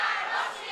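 Opposition members in Nepal's parliament chant slogans as a loud, blended mass of voices that carries on steadily without a break.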